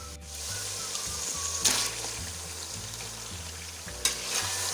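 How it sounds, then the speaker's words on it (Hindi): Chicken pieces with green spices and ginger-garlic paste sizzle and fry in a hot pan for peeli biryani, with steady crackling and a couple of louder bursts as the food is stirred. "अब हम इसको 5 मिनट भून लेंगे"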